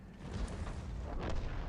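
An Object 263 tank fires its gun in World of Tanks, a dull heavy boom buried in a dense rumbling battle ambience, followed by softer thuds.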